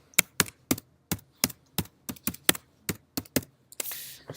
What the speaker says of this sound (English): And I type in my text